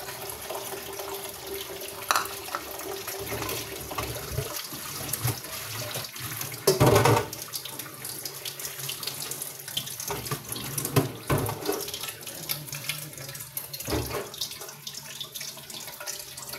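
Water runs steadily from a tap while it is changed during home cooking, a continuous splashing stream with occasional clunks and knocks and no talking.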